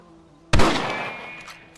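A single sharp rifle shot in Red Dead Redemption cracks out suddenly after a quiet moment, then rings and decays slowly over the following second.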